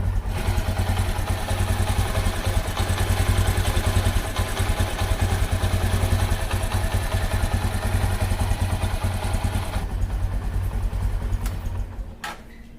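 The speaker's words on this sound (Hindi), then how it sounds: "आपने इंजन का साउंड सुन लिया" A Bajaj Platina 100 motorcycle engine idles steadily after a full service and carburetor cleaning, with a low, rapid thumping rhythm and some mechanical clatter, close by, before cutting off near the end.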